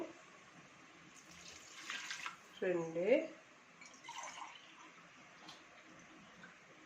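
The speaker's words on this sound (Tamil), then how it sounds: "அப்படின்னா நம்ம வந்து 3 கிளாஸ் தண்ணி ஊற்றணும்" Water pours in a steady hissing stream into rice for veg biryani throughout, with a voice briefly speaking a couple of words partway through.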